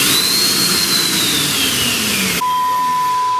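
A Parkside Performance 40V cordless turbine leaf blower (PPTLBA 40-Li C3) in turbo mode roars loud and close with a steady high whine, then drops sharply to a quieter running pitch near the end.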